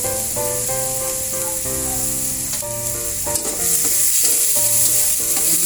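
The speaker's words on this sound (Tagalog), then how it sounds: "Sasangkot mo natin yan para matanggal yung lansa." Chayote and fish sautéing in a hot pan, with a steady sizzle and hiss and repeated stirring scrapes throughout.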